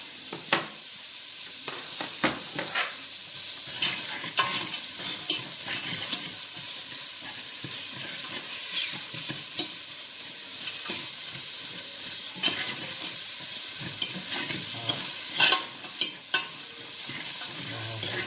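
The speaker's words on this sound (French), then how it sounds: "Je fais revenir mes oignons." Onions and carrots fry in a pan with a steady sizzle, broken by frequent scraping and clacking as a utensil stirs them, close and continuous throughout.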